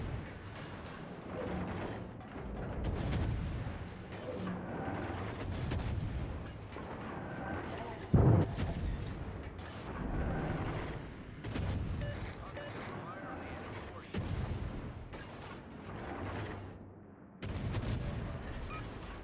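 Naval artillery gunfire in World of Warships: repeated heavy booming shots at irregular intervals with rumbling tails, under steady talk throughout.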